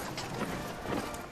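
A horse carries a marshal at the head of a 1919 military victory parade, its hooves clip-clopping steadily over a dense crowd and ambient roar, steps loosely spaced and moderately near.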